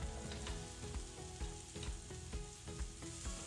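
Onions sizzle steadily in a hot foil pan, a constant crackling fry with occasional sharper pops and stirring clatter.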